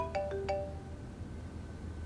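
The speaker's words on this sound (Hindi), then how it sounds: "भाईजान का फोन आ रहा है।" A mobile phone ringtone plays indoors, three short bright chiming tones in quick succession, fairly quiet over a low hum.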